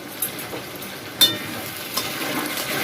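A boal fish head sautés in a pan with spicy masala, cooked dry without water, giving a soft, continuous sizzle with occasional light clicks and scrapes from stirring.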